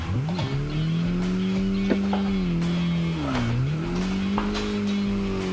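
Car engine note sliding down as the driver lifts off the throttle while drifting, a steady loud tone that dips and recovers, with faint tyre squeal mixed in and no talk.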